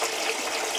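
Water pours steadily into a barrel for a homemade nipple watering system, a continuous broadband rushing and splashing that is close and even, with no talking.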